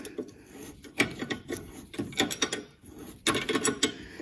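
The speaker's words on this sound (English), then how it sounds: "I have to hold that little ratchet the opposite way" A small hand ratchet clicks in short uneven bursts while undoing a bolt during brake replacement on a VW Polo breadvan, with close metallic rattling and pauses between strokes and no talk.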